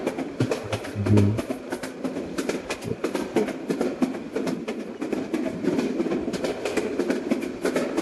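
A train rolls along the rails in a Bangladesh train simulator game, a steady rumble with repeated clickety-clack wheel beats throughout, heard close and fairly quiet.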